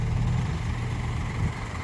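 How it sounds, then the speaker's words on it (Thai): A farm tractor engine rumbles low and steady while pushing a stuck vehicle, a continuous, nearby mechanical drone across the short moment. "เอารถไถอ่ะมาดันตรงนี้อ่ะให้มันหลวมนิดนึงไป"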